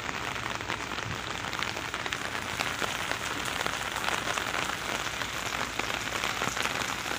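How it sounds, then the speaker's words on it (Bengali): Steady rainfall at Kholamora boat ghat, a riverside ferry landing in Keraniganj, Dhaka, where boats carry passengers across: a dense, even patter of drops hitting surfaces with scattered sharper ticks, continuous and unbroken, with no talk. "বৃষ্টি পড়ছে"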